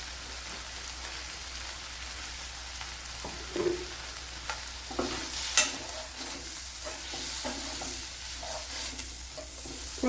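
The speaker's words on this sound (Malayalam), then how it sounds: "പൊടി ഐറ്റങ്ങളൊന്ന് വഴറ്റിയെടുക്കാം" Mild Kashmiri chilli powder and black pepper powder sauté in hot oil in a pan, a steady low sizzle with occasional spoon scrapes and taps as they are stirred.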